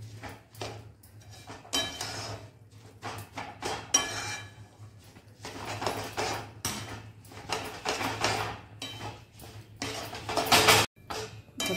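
Sesame ladoo mixture with cardamom powder being mixed in a pan, giving repeated scraping and clinking of a spoon against metal in irregular bursts, close and fairly loud, with a steady low hum underneath.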